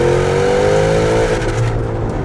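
A 729-horsepower Porsche Cayenne GTS Coupe engine revving and climbing through a held gear, a loud, close, rising growl that cuts off sharply as it shifts.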